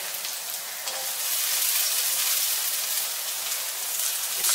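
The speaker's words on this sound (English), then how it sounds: "Always remember to add fresh your onion and your garlic." Fresh onion and garlic fry in half a spoon of oil in a pan, sending up a steady, loud, close sizzle that holds unbroken throughout with no talking.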